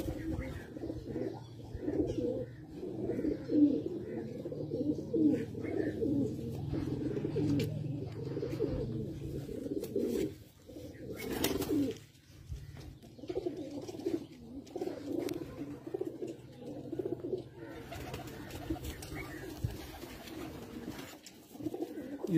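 Teddy flying pigeons cooing in a loft, soft throaty coos repeating over a constant low murmur, with faint talking in the background throughout.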